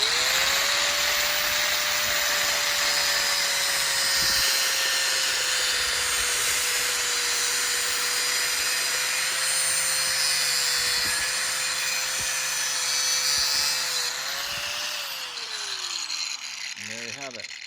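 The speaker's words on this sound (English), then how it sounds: "use your cutting wheel and you'll cut right through there" Power tool with a cutting wheel slicing through a taped hose, a continuous loud high-pitched whine that holds steady for about fourteen seconds, then winds down with a falling pitch as the wheel spins to a stop.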